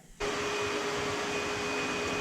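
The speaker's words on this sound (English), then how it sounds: "once it's vacuum cleaned" A vacuum cleaner runs on the engine intake area of a Toyota Soarer / Lexus SC400 with a 1UZ-FE V8. After a brief quiet start it switches on to a loud, steady whining roar that holds without a break.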